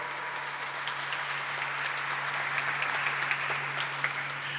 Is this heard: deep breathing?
no